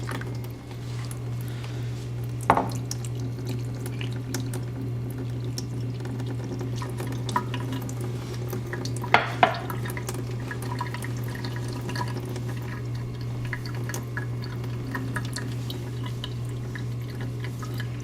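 Water is poured through a thin straining cloth to rinse fresh queso fresco curds, a soft continuous trickle and drip under a loud steady electrical hum, with a few sharper splashes and knocks.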